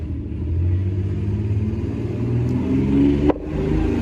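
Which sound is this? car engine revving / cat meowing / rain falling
car engine revving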